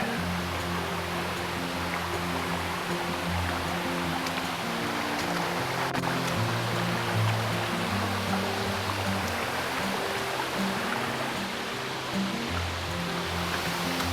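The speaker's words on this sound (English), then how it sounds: "Waterfall's looking good today." Machine Falls waterfall pouring steadily, a dense continuous rush of falling water that stays loud and unchanging throughout, with a low hum running underneath and no voices.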